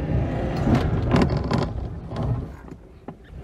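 Oltcit car engine with the choke pulled fully out, idling roughly and spluttering with uneven bursts and dips, heard close up with no talk.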